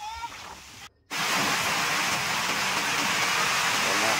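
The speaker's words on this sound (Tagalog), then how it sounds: "lakas ng ulan" Heavy rain pours down on an outdoor grilling spot on a blustery, overcast day, a dense, loud, steady roar of drops after a brief silent gap near the start, with no pause for the rest.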